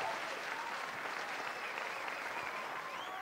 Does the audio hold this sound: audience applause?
yes